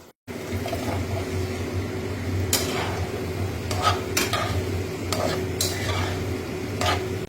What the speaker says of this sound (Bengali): হাতল দিয়ে আস্তে আস্তে নাড়বো